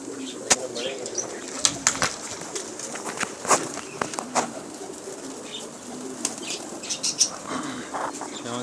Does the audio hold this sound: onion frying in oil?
no